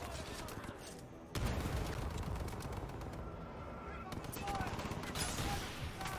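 Dense, sustained bursts of gunfire in the video game Titanfall 2 crackle continuously, loud and close, with rapid automatic shots layered over a constant rumbling background.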